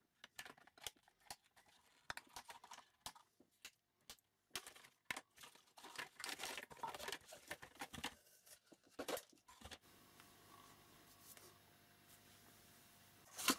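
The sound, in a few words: cutting vinyl straps off a Nerf blaster's packaging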